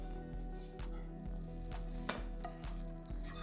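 Partly cooked, lightly browned potatoes sizzle and fry in a pan, a steady crackling hiss broken by regular scraping stirs, close and without talk.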